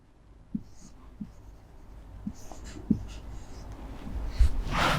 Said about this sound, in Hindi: उर्दू में भी लिख देता हूँ